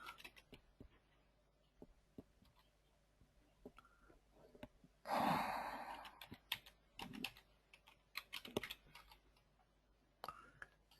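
Computer keyboard typing comes in sparse, irregular clicks while logging in to an Office 365 SharePoint Online signing application, with a louder burst of activity midway and quiet gaps between keystrokes; no one talks.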